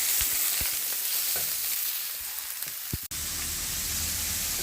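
Onions and bacon lardons fry in a pan, a steady close sizzle with scattered pops and a few stirring knocks, briefly cutting out for an instant before the hiss resumes.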